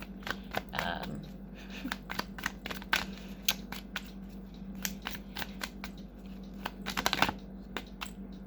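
Cards are shuffled in quick, crisp riffling bursts over a steady low hum, with a louder flurry near the end.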